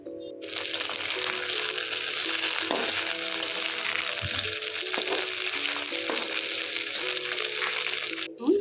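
Vegetables frying in mustard oil in a pan for a Bengali home-style summer vegetable dish, a steady close sizzle with occasional stirring clatter throughout, no talking.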